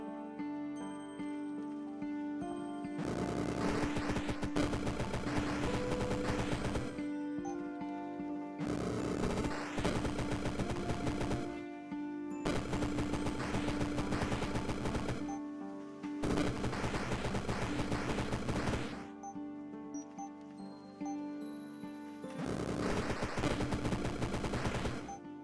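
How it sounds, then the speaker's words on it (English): A wizard's gun in a video game fires in long bursts of rapid automatic gunfire, five loud sustained volleys separated by short pauses. "when I do this, I will shoot out a billion bullets now"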